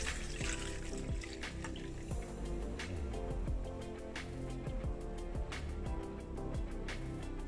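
Hot homemade onion oil, strained, is poured into a container, giving a steady liquid trickle with intermittent drips that runs continuously and fairly close throughout.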